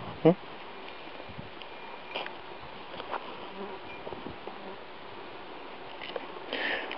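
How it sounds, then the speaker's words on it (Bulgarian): Flies buzz faintly around an outdoor spot, a thin, wavering insect drone that comes and goes at low level, with a few soft knocks and rustles scattered through it. "Само че, опа, мухите тук са ви в повече."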